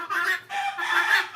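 Tiger chickens at a poultry farm clucking in two short, close bursts, fairly clear against a quiet background.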